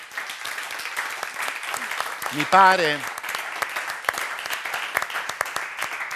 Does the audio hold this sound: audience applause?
yes